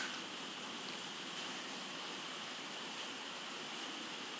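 Water pouring into a pot of creamy macaroni soup during cooking, a steady even rushing splash held unbroken throughout, moderately quiet and close with no talk.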